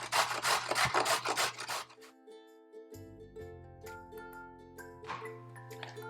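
Rapid rhythmic rasping of vegetables scraped across the largest side of a grater, loud strokes in quick succession that stop after about two seconds, followed by quiet background tones and a faint scrape later.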